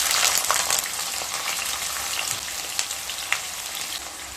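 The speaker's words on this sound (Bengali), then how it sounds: "পেঁয়াজগুলোকে হালকা ভেজে নেব।" Three medium chopped onions hit hot oil seasoned with whole cumin, giving a steady, close crackling sizzle with a few sharper pops near the end and no voices.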